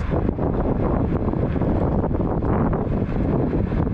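Strong headwind roars across the microphone while a Hover-1 Journey electric scooter is ridden, a loud, constant buffeting rush with no voices.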